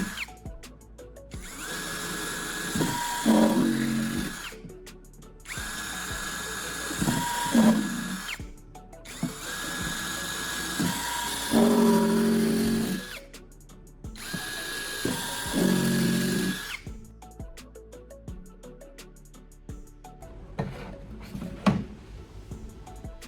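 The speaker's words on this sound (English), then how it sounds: "I'm using an electric drill to make pilot holes in the jerrycan." Electric drill whirring in several bursts, each run biting into a plastic jerrycan with a grinding whine while making pilot holes, separated by short pauses and some handling clatter.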